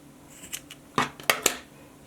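Scissors snip through dog collar material in a few short, sharp cuts close by, with brief pauses between them.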